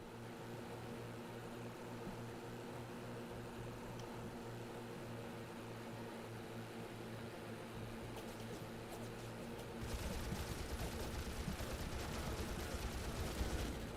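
Propeller fighter aircraft drone steadily in a Pacific air-combat video game, joined near the end by a louder burst of rapid machine-gun fire that continues to the close.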